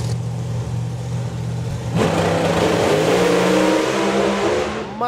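Drag racing cars launch with massive tyre shake at an FIA/FIM event, a loud engine drone building before a sharp surge of raw, stuttering revving that stays intense to the end.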